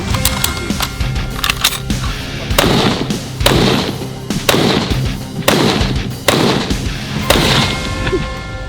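A rapid series of loud gunshots, roughly eight sharp blasts in irregular succession, each with a ringing echo, over a steady background hum.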